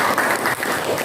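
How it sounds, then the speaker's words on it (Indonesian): Steady applause from a classroom group at the close of a lesson, dense and even clapping throughout with no voices standing out. "Tepuk tangan untuk kita semua."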